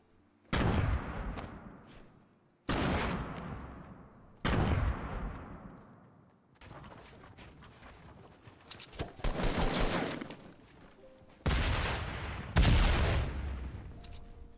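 Fortnite gunfire rings out in sharp, loud single shots with long decaying tails, spaced a second or two apart, and a denser burst of rapid fire sits in the middle.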